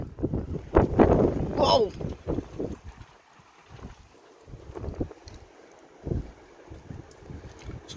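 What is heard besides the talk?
strong wind blowing, gusts from the north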